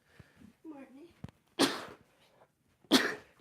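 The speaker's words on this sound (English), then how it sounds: "Gosh, why do I keep sneezing?" Two loud, sharp sneezes burst out about a second apart, preceded by softer vocal sounds and breathing from the same person indoors.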